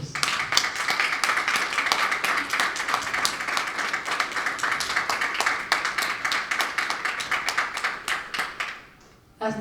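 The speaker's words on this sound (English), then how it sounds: "I think they need a round of applause." A room of people at a programme launch event in Belize gives a round of applause, with brisk, fairly close clapping that is sustained and lively for about eight seconds before it quickly dies away.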